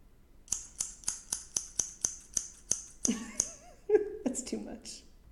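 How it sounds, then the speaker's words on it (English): Shears or scissors snip about a dozen times at a steady, even rhythm, each cut a crisp metallic click, before a voice begins talking over the last few snips. "Shear scissors sound effect."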